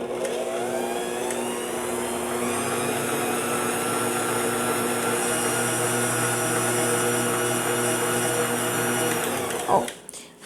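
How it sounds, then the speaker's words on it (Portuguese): A stand mixer on its lowest speed churns chocolate cake batter with a steady, close motor whine, humming evenly for about ten seconds before a brief clunk as it stops. "coloco rapidinho na velocidade mais baixa da batedeira, só para ele terminar de misturar esse chocolate"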